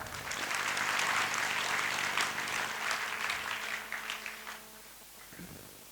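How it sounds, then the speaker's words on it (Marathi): Audience applause during a Hindu religious sermon by a mahant at an ashram gathering, a dense, loud burst of clapping from many hands that fades gradually toward the end. "तुमच्या सर्वांबद्दल एकदा टाळ्या व्हा"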